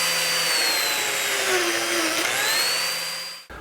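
A biscuit-style joiner plunges into a frame-less kitchen cabinet board, a steady loud motor whine with high harmonic tones that dips briefly mid-cut and cuts off sharply at the end.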